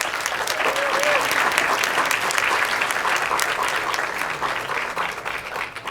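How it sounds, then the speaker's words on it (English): A conference crowd at a climate plenary session claps in a continuous, even round for the sponsors, moderately loud and filling the room, fading slightly at the end. "So if we can get a round of applause for them, that would be great."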